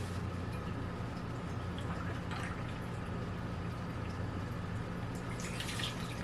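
Fairlife whole milk pours into sourdough cupcake batter with a steady, continuous liquid stream and soft splashing, close by and alone.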